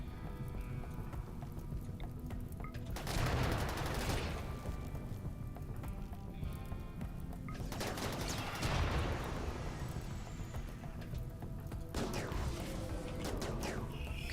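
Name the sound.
incendiary launchers firing in RimWorld video game battle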